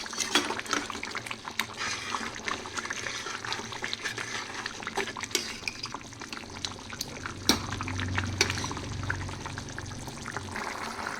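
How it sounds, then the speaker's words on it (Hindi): Chana bhaji, a chickpea-leaf curry, simmering and thickening in a pan, with a steady bubbling, liquid churn running throughout, close and moderately loud, no voices. "देखिए दोस्तों, बहुत अच्छे से मेरी भाजी पक रही है"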